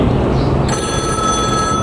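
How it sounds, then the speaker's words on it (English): A payphone in a shopping mall rings with a steady electronic bell tone, loud and close, heard alone over a busy mall background. "The phone rang"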